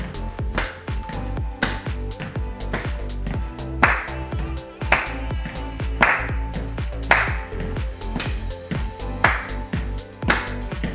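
Steady rhythmic hand clapping during an at-home low-impact walking workout, sharp claps repeating about once per half second over upbeat workout music.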